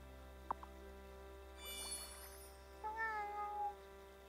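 A cat meows in the Wylde Flowers video game, with a short tonal cry near the end over steady game music and a couple of faint clicks earlier.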